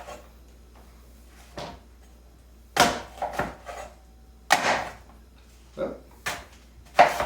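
A big knife chops through a cabbage, cutting it into wedges for corned beef and potatoes. Several sharp, separate cuts land against a board at irregular intervals over near silence, with no talking.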